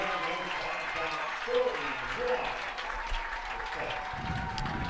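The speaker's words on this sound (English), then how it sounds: "can you hear the Kaukauna fans in front of us giving the Ghosts a big round of applause" Kaukauna football fans applaud at halftime of a varsity game against Ashwaubenon, a broad crowd clapping spread across the stands beneath a commentator talking, with a few louder swells.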